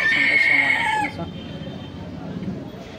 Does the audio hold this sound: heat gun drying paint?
no